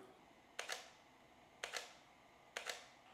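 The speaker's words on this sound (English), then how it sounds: "you wanna make sure you hear the audible clicks from the camera" Three soft mechanical clicks from a camera on a RESEPI XT32 LiDAR unit powering on, spaced about a second apart, faint against a quiet background hiss.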